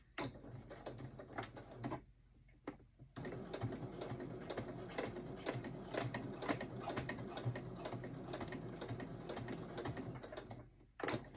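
A sewing machine runs in bursts while stitching a 1/8 inch seam with backstitching, a fast mechanical whir and clatter that pauses briefly before a long continuous run, quiet and close.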